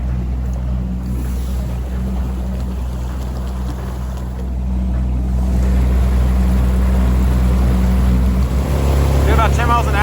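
A Mercury 25hp Gen 4 outboard pushes a 1648 jon boat on open water at night, giving a loud, steady engine drone that swells near the end as the boat picks up speed.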